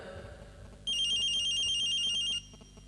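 An electronic telephone ring trills steadily for about a second and a half over a low background hum, then cuts off.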